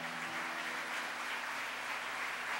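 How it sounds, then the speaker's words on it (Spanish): A church congregation at a Sunday morning service applauds in a continuous, even wash of clapping that sounds faint and somewhat distant. "Dele un aplauso al Señor fuerte por la palabra."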